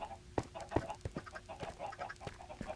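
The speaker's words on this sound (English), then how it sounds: "she also has this massive farm, bunch of chickens, all this stuff all underground" Chickens clucking on an underground farm in Minecraft, a string of short, soft, repeated clucks and squawks at irregular intervals.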